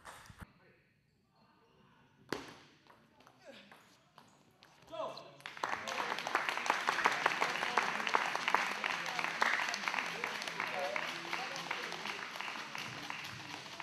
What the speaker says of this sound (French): Alors on applaudit encore bien fort